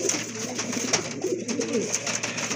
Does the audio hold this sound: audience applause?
no